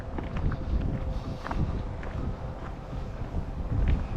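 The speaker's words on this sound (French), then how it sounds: "Désolé pour le vent de nouveau." Wind buffets the microphone beside a lake in a continuous low rumble that swells and dips. Faint scattered knocks sit beneath it.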